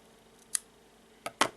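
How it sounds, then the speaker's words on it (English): Scissors snipping through crochet yarn in quiet surroundings: one faint snip, then a pause and two sharper snips in quick succession near the end, close and crisp with no talking. "Now I will take the scissors"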